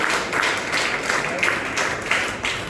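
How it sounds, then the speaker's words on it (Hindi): An audience at a Lions Club gathering claps loudly, a dense wash of hands with rhythmic surges roughly every half second, close and steady without talk. "वो अपने दिल से जोर से ताली बजा सकते हैं।"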